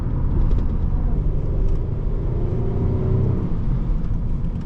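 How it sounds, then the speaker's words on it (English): A 2006 Pontiac Grand Prix sedan engine drones steadily while driving at part throttle, a continuous low rumble with a faint whir and no talking. "This is a magnificent sounding engine."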